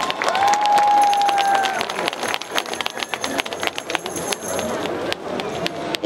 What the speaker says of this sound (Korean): 또 박수 한번 주세요.